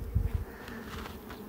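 Honeybees buzz at an open hive in a soft, continuous hum, close by and fairly quiet, with a few low bumps at the start and no speech.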